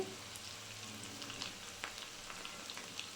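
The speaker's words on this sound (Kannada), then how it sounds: "ನೋಡಿ ಯಾವ ರೀತಿ ಬೇಯ್ತಾ ಇದೆ ಎಣ್ಣೆಯಲ್ಲಿ" Cauliflower gobi fries in hot oil, a soft, steady crackling sizzle with scattered tiny pops, heard close but fairly quiet.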